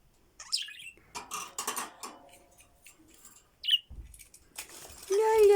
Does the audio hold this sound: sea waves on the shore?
no